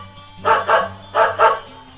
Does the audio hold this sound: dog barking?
yes